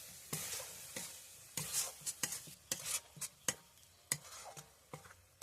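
Ground spices being stirred into a coriander leaf pickle, a series of short scraping and tapping strokes of a spoon in a pot at an uneven rhythm over a faint sizzle.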